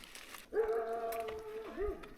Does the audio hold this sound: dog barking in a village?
yes